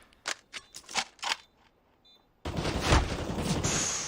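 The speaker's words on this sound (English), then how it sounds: "Shots landing in through the smoke" Rapid gunfire from the Counter-Strike: Global Offensive game, a burst of separate sharp shots followed by a dense, sustained roar of shooting that fills the rest of the moment.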